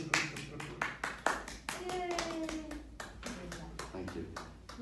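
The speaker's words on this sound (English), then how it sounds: "Let's give them a round of applause." Wedding guests clap after a couple is pronounced husband and wife, sharp close claps and a steady patter of hands, with a few voices and a child's cheer mixed in.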